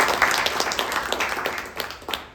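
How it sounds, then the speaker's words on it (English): Attendees at an annual members' meeting applaud together, a busy, fairly close patter of many hands clapping continuously with uneven individual claps poking through. "Big round of applause."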